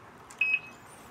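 An e-bike's hazard light indicator gives two quick, thin, high electronic beeps close together. They are faint and steady over a quiet background.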